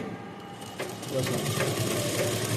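A sewing machine stitches elastic onto palazzo pants, its steady mechanical whir running close and continuous while someone talks over it.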